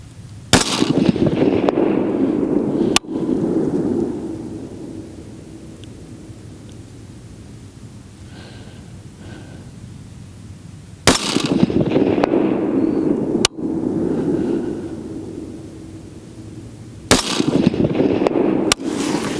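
Carbine rifle shots fired at a bullseye target while zeroing at 100 yards, outdoors: three or four sharp, loud cracks spaced several seconds apart, each trailing into a brief echoing decay with quiet background between.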